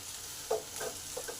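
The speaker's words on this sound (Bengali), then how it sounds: "আলুগুলোকে দু মিনিট ধরে ভালোভাবে নাড়া হয়ে গেল" Potatoes being stirred as they fry in a pan, heard as a few soft, quick scrapes over a faint, low sizzle in a short, quiet moment.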